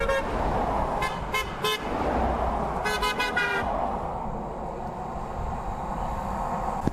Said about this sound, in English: One honk per car, pal.